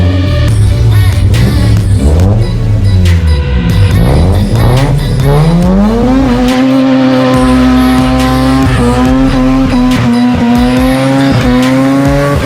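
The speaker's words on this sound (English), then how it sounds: "Little skid action." A Pontiac G8 GT's tires squeal and skid loudly and continuously while the engine revs and drones underneath, close and intense throughout.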